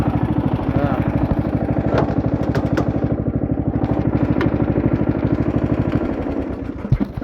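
A race lawn mower's engine revving hard and steady nearby, a rapid clattering drone with brief throttle changes, faint voices underneath.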